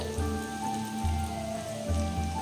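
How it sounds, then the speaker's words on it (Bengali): Chicken nuggets fry in hot oil, a continuous crackling sizzle with steady bubbling and no talk. "এবার এগুলো ভাজা হোক"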